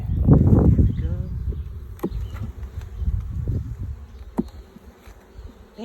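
Carniolan honeybees buzz steadily around a hive during a midday inspection, a low droning hum with a person talking over it near the start and occasional soft clicks.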